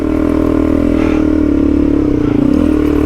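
An adventure motorcycle struggles for grip on a slippery mountain track, its engine droning loud and steady with a rough, labouring tone as the rear wheel spins, close and continuous with no talk.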